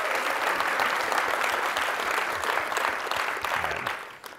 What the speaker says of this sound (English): I'd like to give another round of applause to the engineers who helped make this all possible.